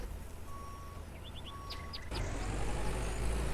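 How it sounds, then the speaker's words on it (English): A tractor in the farming video game Farmer's Dynasty drives with a steady low engine drone, joined by a few short reversing-style beeps and tones, growing louder and fuller midway. "But I'm going to bring the tractor back to the farm"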